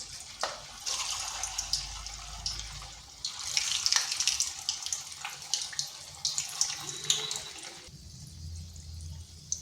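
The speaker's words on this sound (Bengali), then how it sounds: "এখানে কড়াইতে তেল গরম হতে দিয়েছি, এরপর এগুলো দিয়ে দিচ্ছি।" Semolina sweets sizzle in hot oil in a wok, a soft continuous crackling hiss with scattered pops, fairly quiet and up close, easing toward the end.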